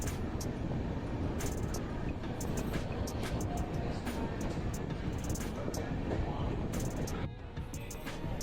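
Heard from on board, the Mumbai Rajdhani Express runs near Mathura and Agra with a steady, loud rumble of wheels and carriage noise, marked by faint clicks and rattles throughout.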